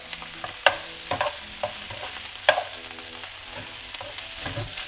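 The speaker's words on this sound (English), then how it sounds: "Really important to keep this moving so it doesn't stick together" Pasta with pesto and tomatoes is stirred in a hot pan, with a soft ongoing sizzle and sharp scraping clacks from the utensil at irregular intervals and no talking.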